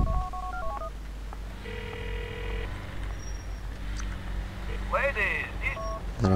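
Telephone tones from Grand Theft Auto IV: short dialing beeps, then a steady ringing tone and a burst of warbling electronic call sounds, all fairly faint under people talking.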